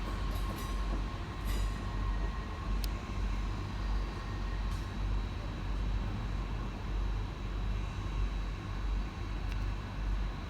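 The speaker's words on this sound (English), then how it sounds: "Off in the opposite direction is 153-320, working the 1620 Transport for Wales service and Caerphilly through to Penarth." Transport for Wales Class 153 diesel unit departs Cardiff Central: a steady loud rumble of engine and wheels, with faint squeals and clicks above it throughout.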